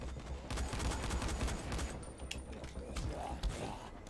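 Rapid gunfire and blasts from the zombie video game Dying Light crackle in a dense, continuous barrage, with sharp bursts over a busy game mix.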